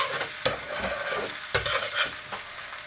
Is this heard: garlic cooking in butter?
yes